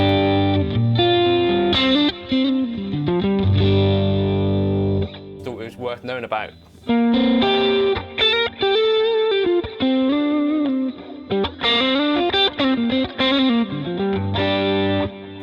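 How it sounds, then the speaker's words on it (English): Electric guitar through a Fractal FM3 or Axe-FX modeler with a bright, chimey tone just on the edge of breakup, strumming chords and picking lines, with someone speaking briefly between phrases. "Especially if you're into these kind of chimey, edge of breakup type tones."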